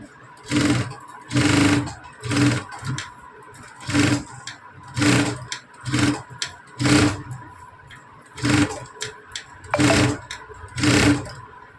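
Sewing machine stitching the sleeve of a leaf-model blouse, running in repeated short bursts of whirring with brief pauses between them, close and fairly loud, with no talk.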